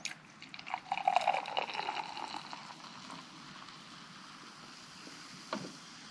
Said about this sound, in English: And then I get to pour in the froth myself.